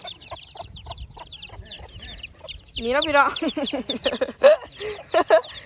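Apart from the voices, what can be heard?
chickens clucking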